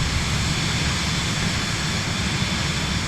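Embraer Brasilia turboprop in Microsoft Flight Simulator on a Budapest to Kolozsvár flight, giving a steady, loud broadband engine drone with no change in pitch or level throughout.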